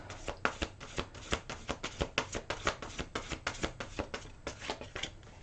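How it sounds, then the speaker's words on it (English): Rapid riffle shuffling of a card deck, a quick run of crisp flutters repeating in steady bursts, close and clear with no talking. "One more shuffle."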